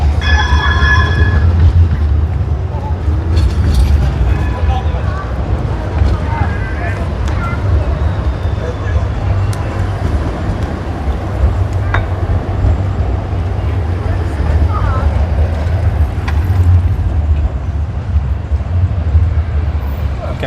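A newer tram rolls through a Brussels intersection with a steady low rumble that builds and fades across the scene, mixed with street noise and wind, while someone talks over it.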